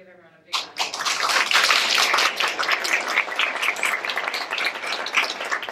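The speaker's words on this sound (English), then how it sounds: "I'd like for us all to give everyone a big round of applause." Audience bursts into a round of applause at a 2015 introduction event, starting abruptly after a brief quiet moment and continuing as loud, dense clapping from a crowd.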